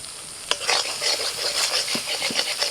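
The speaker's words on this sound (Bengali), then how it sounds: "এবার আস্তে আস্তে মশলাটাকে কষতে থাকবো যতক্ষণ না তেলটা উপর দিকে ভেসে উঠছে।" Ground coriander, cumin and salt with spice paste being stirred and fried in oil in a pan, a loud close sizzle broken by scraping spatula strokes and a few sharp clinks against the metal.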